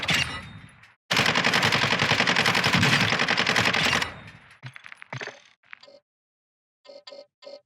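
A Minibak submachine gun firing in Call of Duty DMZ: a loud, sustained burst of rapid automatic fire lasting about three seconds, followed by a few shorter clattering bursts and then silence.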